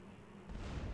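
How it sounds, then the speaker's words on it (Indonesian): A taxi bursts into flames and explodes in GTA San Andreas, a sudden deep boom rising out of low background noise halfway through and rumbling on to the end. "taksinya kebakar terus meledak dah itu, asli meledak dah itu, duar"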